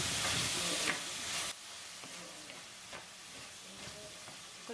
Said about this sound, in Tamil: இப்போ 2 நிமிஷமா இதுலேருந்து வதங்கி கொண்டிருக்குது.